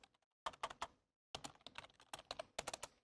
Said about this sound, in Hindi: उसके बाद let's start typing this is my first blog